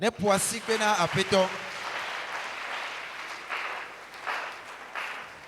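A church congregation breaks into applause and cheering during a worship service. A loud burst of voices comes first, then steady clapping that holds at a moderate level for several seconds.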